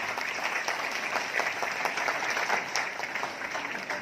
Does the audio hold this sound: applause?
yes